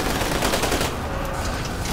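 Rapid bursts of gunfire in a video game, dense and loud, with rattling automatic shots packed together and no talk over them.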